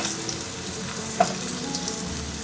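Capsicum (malu miris) tipped into a hot pan already holding curry leaves and shallots, frying with a steady, close, crackling sizzle that holds evenly throughout, with a few brief sharper pops and no voices.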